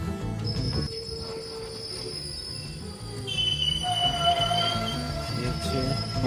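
A night train running toward Puri, heard from an open carriage door: steady rumbling wheels and rail noise fill the whole stretch, with thin high wheel squeal rising and shifting partway through, loud and continuous.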